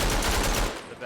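Rapid machine gun fire in the World War I shooter Verdun, a dense burst of loud cracks that cuts off after under a second, close and dominant.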